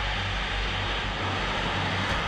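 A military aircraft roars overhead, its loud, dense, steady engine noise filling the whole clip without a break.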